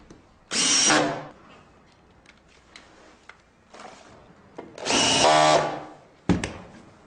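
A SPAX full-thread screw is power-driven into a wooden pillar, with two loud bursts of drilling, each about a second long, separated by quieter ticks and creaks of wood fibres giving way.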